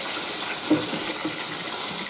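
Raw chicken rinsed under warm running tap water, a steady close rush of water into a sink with a faint splash as the meat shifts in the stream.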